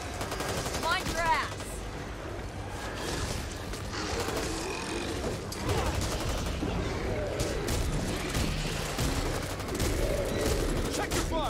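Dense gunfire from multiple weapons in the zombie shooter Back 4 Blood, with rapid bursts and automatic fire rattling continuously and loudly across the scene, mixed with game effects and voices calling out beneath the shooting.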